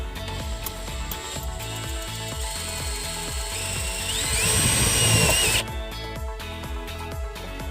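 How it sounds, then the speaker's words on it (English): A power drill whines and rises in pitch for a few seconds, drilling into a panel of a 2017 Buick Verano, over a steady, rhythmic background. "there's nothing that I'm going to hurt at all by drilling into this panel here"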